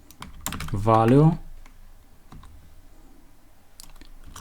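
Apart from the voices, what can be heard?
typing on a computer keyboard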